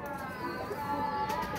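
Pigeons coo softly in a loft, a faint, rolling murmur of low calls running continuously through the background.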